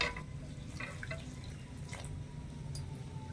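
About 250 ml of lukewarm water runs into milk powder in a bowl, a quiet steady trickle with a few soft drips and splashes heard close by.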